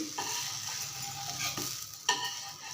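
Navadhanya adai cooks on a pan over a low flame, a soft continuous sizzle close by, punctuated by a couple of sharp scraping taps from a spatula.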